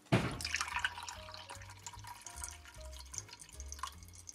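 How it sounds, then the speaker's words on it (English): Lemon juice runs through a coffee filter in a gravity filtration setup, a close trickle with irregular drips splashing into the vessel below, beneath soft background music. "I set up a simple gravity filtration using a coffee filter"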